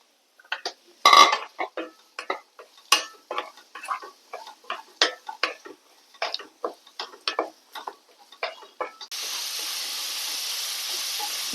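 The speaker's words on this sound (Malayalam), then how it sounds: "എന്നിട്ട് നമ്മൾ അരിഞ്ഞു വെച്ചിരിക്കുന്ന ഉള്ളി അതിനകത്തേക്ക് ഇട്ട് നമുക്ക് നന്നായിട്ടൊന്ന് മൊരിച്ചെടുക്കണം" Chopped onions frying in oil in a pan while being stirred, a run of sharp irregular scraping and clinking stir strokes over a soft sizzle, then a steady loud sizzle near the end, with no talking.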